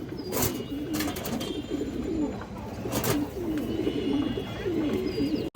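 A Budapest female pigeon coos softly in a repeated, throaty rhythm close by, while a few sharp clicks or flutters break in now and then.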